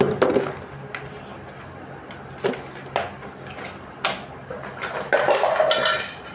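Pens and pencils rattle in a holder during house cleaning in several sharp, clattering bursts separated by quieter pauses, close by.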